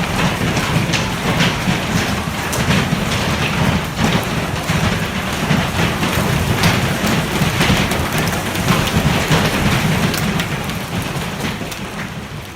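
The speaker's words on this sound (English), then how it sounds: "Severe thunderstorms brought hail, strong winds, and heavy rain to Garner, North Carolina" Severe thunderstorm in Garner, North Carolina, with hail, strong winds and heavy rain: a loud, constant roar of downpour and wind with low rumbling throughout, no voices.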